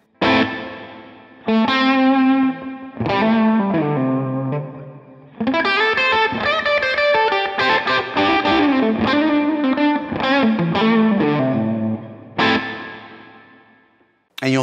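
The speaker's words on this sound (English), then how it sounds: "Here is the plate reverb on the Pod Go" An electric guitar played through the plate reverb on a Line 6 Pod Go rings out in loud, distorted chords and short phrases, each note trailing off in a shimmering reverb tail between bursts.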